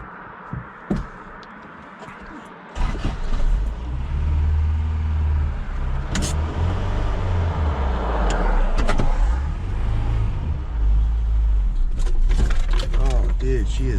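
A cold pickup truck engine runs rough, held at high RPM with an uneven, surging rumble, up close under a voice and some knocks and clatter.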